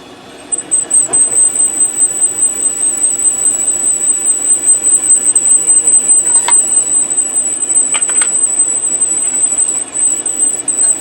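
Metal cutter taking a light finishing cut of about ten thousandths on a Mustang engine part, a steady high-pitched machining whine running continuously with a broad grinding hiss beneath and a few brief clicks.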